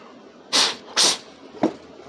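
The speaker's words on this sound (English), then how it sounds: "Sorry for me blowing around the camera." Two sharp breaths blown hard over a guitar nut to clear away filing dust on a kit guitar, close and loud, followed by a softer short puff.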